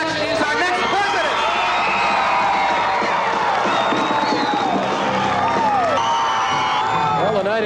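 A large election-night crowd at a 1980 celebration for Ronald Reagan's projected presidential win roars and cheers continuously, with whoops and shouts filling the hall and a broadcaster's voice over it.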